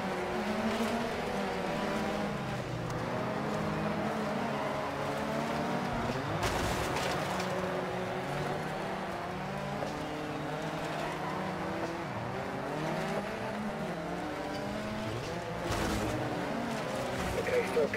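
Rally cars in the Dirt 4 racing game roar away from the start, a dense continuous engine drone with shifting pitch and occasional bursts, steady and loud throughout, with a voice speaking over it.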